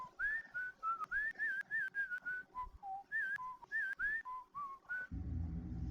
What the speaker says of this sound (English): We should listen to your whistling ways.